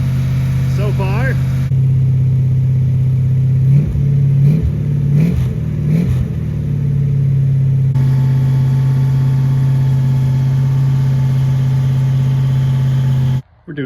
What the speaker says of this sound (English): break in our Daytona motor